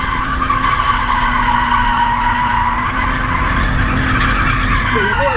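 A car in a drift doughnut spins continuously with loud, sustained tyre squeal over a steady engine roar, close and unbroken throughout.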